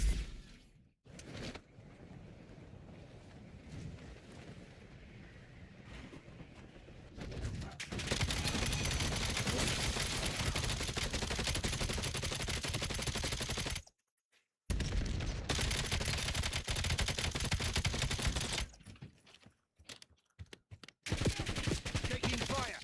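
Automatic gunfire rattles in the video game Call of Duty Black Ops 7, with sustained rapid bursts in several long stretches separated by abrupt silent gaps, loud and close throughout.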